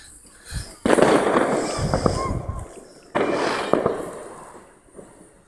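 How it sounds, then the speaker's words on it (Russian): Firecrackers burst on New Year's night in the center of Russia, two loud crackling volleys echoing through the streets, with smaller pops trailing off in between. "Кругом слышны звуки петард."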